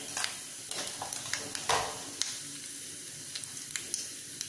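Mustard seeds crackle and sizzle in hot oil in a kadai for cabbage rice, with sharp scattered pops over a steady low hiss, fairly quiet and close.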